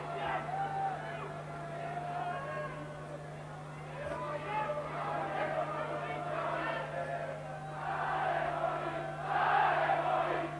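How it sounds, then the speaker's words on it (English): A boxing crowd at a heavyweight bout between Derek Williams and Jean Chanet roars and shouts in support of Chanet, a rolling, swelling cheer under a commentator's voice, growing louder toward the end. "just listen to this crowd getting behind Chanet"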